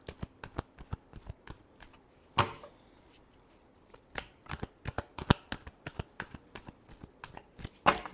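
Playing cards being shuffled by hand, a run of quick crisp riffles and taps with irregular rhythm, close and fairly quiet, with no talking.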